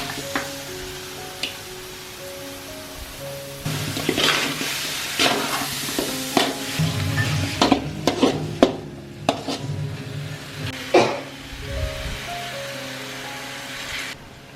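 Chicken pieces sizzle in hot oil for a Dindigul Thalappakatti-style chicken biryani, with a quiet fry at first, then louder sizzling and repeated scraping strokes of a spoon stirring against the pot, all close up with no talk.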